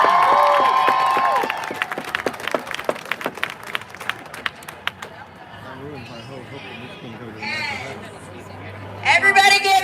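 A crowd at a No Kings rally claps and cheers in a loud burst of applause that fades into murmuring chatter, then swells again briefly at the end.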